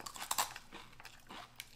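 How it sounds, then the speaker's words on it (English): Crisp crunching bites into a Vietnamese cơm cháy, a savory crispy rice cake snack: a few sharp, close crunches with short pauses between them and no talking. "Vietnamese savory rice crispy treat. Let me take the first bite."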